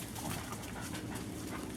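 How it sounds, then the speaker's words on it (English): A female dog growls in a rough, continuous rumble while tangling with a boxer during e-collar training, loud and close with no talking. "Now she's adding the growl."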